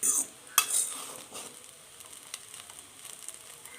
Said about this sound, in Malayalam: ഇങ്ങനെ നൂഡിൽസൊക്കെ ഇളക്കുന്നത് പോലെ ഇങ്ങനെ ഇളക്കി കൊടുക്കുക